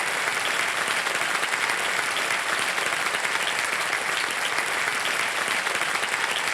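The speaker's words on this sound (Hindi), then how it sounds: "तालियां बज जाएं जोरदार" A studio audience on a quiz game show breaks into loud, dense applause that stays constant from start to finish, with no talking over it.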